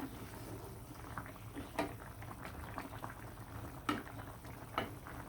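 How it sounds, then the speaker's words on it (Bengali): Taro and hilsa fish curry bubbling at a low boil, a steady soft simmer with a few louder pops and bursts standing out, fairly quiet and close with no voices. "খুব সুন্দরভাবে বলক চলে আসছে"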